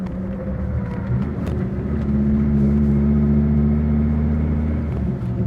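A Dodge Viper SRT-10 idles with a deep, steady engine rumble while being downshifted into first gear. The low drone stays even and close, with a slight shift in tone midway and no revving.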